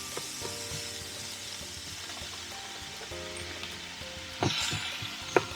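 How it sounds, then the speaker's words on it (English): Steady sizzling of mushrooms frying at a low setting on a low-watt campervan hot pot, a soft continuous crackle with a few louder clinks and stirring noises near the end. "the mushrooms are frying nicely at the lower setting"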